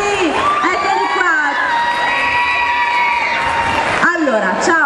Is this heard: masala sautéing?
no